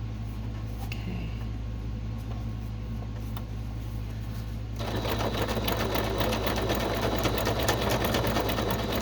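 Sewing machine stitching a soft fabric junk journal cover, a steady mechanical hum that grows noticeably louder and busier halfway through, close up with no talking.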